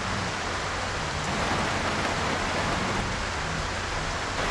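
Steady rain pours in the zombie survival game Project Zomboid, a continuous broadband hiss of falling drops that stays even and fairly loud throughout, with no voices over it.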